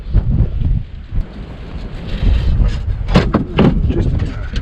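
Strong outdoor wind buffets the microphone with a heavy, uneven low rumble throughout, gusting louder near the end, and a few faint thumps from work on a 2009 extended cab Silverado are mixed in.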